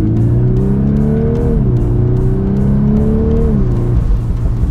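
A 2022 Volkswagen Golf R with performance pack accelerates hard while driving, its engine note climbing through the revs in two rising pulls separated by a quick gear change, loud and close with a steady road roar underneath.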